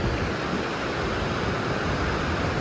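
Gullfoss, Iceland's largest waterfall, roars as a constant broadband rush of falling water, loud and unbroken with no voices.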